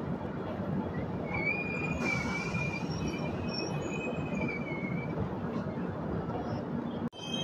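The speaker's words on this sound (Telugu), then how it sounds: "భువనగిరిలో ఏదో ట్రైన్ మనని క్రాస్ చేసుకుంటూ వెళ్తుంది." Another train rumbles past alongside a moving East Coast Express third AC coach, a loud continuous rail roar with high wheel squeals drifting over it, ending abruptly in a sharp drop.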